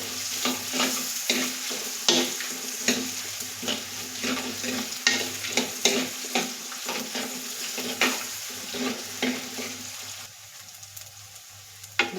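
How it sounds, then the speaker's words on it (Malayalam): Onions frying in a pan while being stirred, with repeated rhythmic spoon scrapes and knocks over a constant sizzle, the crackle easing off near the end. "എന്നിട്ട് നന്നായിട്ട് തന്നെ ഒന്ന് ഇളക്കി യോജിപ്പിക്കാം"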